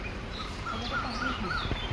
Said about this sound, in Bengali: কত রকমের পাখির আওয়াজ শুধু শুনে না